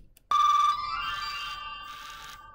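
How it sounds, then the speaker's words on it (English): A Pokemon Z-Ring toy sounds its fully charged chime: a sharp electronic tone starts abruptly and holds steady, with a brighter musical jingle layered over it for about two seconds, close and clear with no talk. "when it makes the good sound and does all the colors, that means it's fully charged."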